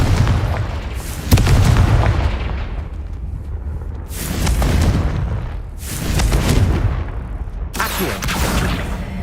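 Loud booming spell explosions from the Confringo blasting charm in Hogwarts Legacy, three or four heavy blasts with rumbling decay spaced a couple of seconds apart.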